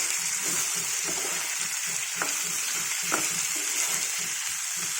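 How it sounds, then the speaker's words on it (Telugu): Mustard seeds spluttering in hot oil, a dense steady sizzle with faint crackles and a couple of sharp pops, close and continuous with no voices. "అవి ఆవాలు చెట్చెట్లాడినాయి"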